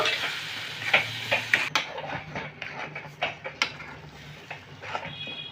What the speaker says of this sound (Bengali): গ্যাসের আঁচটা মিডিয়ামে রেখে এভাবে কিন্তু নাড়াতে থাকবো